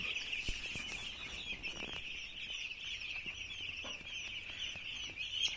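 Chickens settled into a new coop give scattered soft clucks at low volume, over a steady high-pitched buzzing background that runs throughout.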